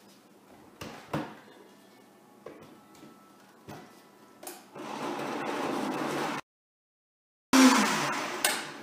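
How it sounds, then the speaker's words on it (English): After a few sharp clicks and knocks, a blender whirs in two short, loud bursts separated by a brief silence, blending a plant-based ice cream mixture. "So now I'm going to blend it up in my blender."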